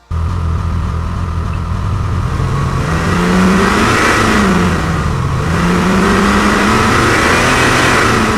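Car engine revving from a recording blended with synthesis, a loud sustained engine roar whose pitch climbs, dips and rises again smoothly, heard alone without talk.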